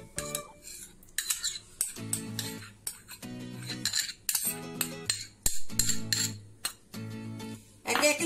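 Metal spoon clinking against a bowl while adding whisked yogurt to cauliflower for marinating, repeated sharp clinks and scrapes in an irregular rhythm, close, with no talk.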